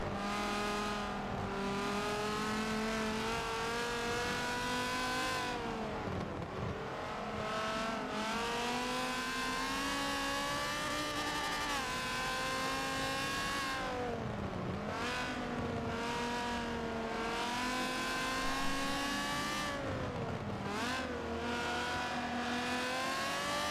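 Race cars lap Brands Hatch in Forza 7, their engines whining steadily, dipping and climbing through repeated gear shifts and braking, with no voices over them.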